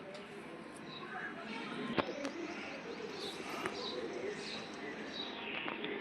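Pigeons in a breeding loft, soft low cooing and occasional chirps at a faint level, with scattered clicks and rustling and a person talking nearby.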